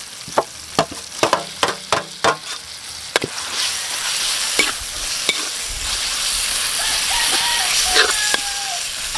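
Beef and tomato stir-fry in hot oil, with a run of sharp clanking utensil strokes against the pan at first, then a steady loud sizzle of frying with occasional scrapes.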